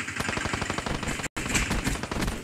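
Rapid automatic gunfire in Call of Duty Black Ops 3 video game, fast repeated loud shots in continuous bursts, broken by a brief cut of silence midway.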